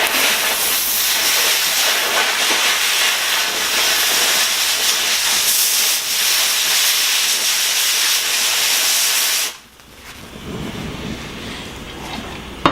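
An oxyacetylene torch cutting steel gives a loud, steady roaring hiss for about nine seconds, then cuts off abruptly, leaving a quieter hiss behind.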